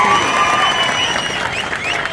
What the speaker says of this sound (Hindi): मुझे लगता है और जोरदार ताली इस बात पर बजनी चाहिए